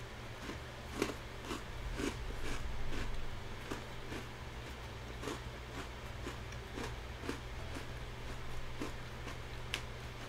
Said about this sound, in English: I'm eating all my crunchy cookies.